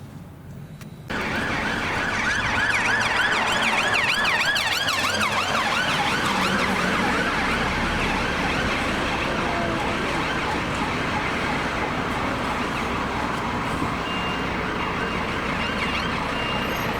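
Emergency vehicle sirens wail continuously in Estonia, a loud, steady warbling tone that starts abruptly after a second of quiet and holds throughout, with traffic rumble underneath.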